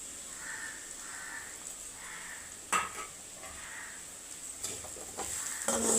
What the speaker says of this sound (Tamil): நல்லா கலரி விட்டுக்கிறேன்